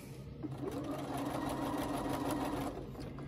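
Sewing machine running steadily while quilting simple straight lines across a crochet panel for a bag, a continuous close whirring hum with no talk.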